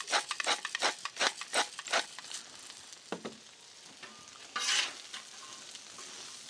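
Asparagus sizzling in oil on a Blackstone griddle as it is tossed, with quick scraping strokes over a steady fry, close by, then a brief louder flare near the end.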